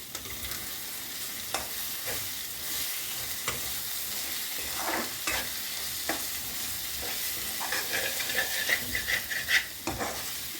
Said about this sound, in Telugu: కోడిగుడ్డు కలుపుకుందాం.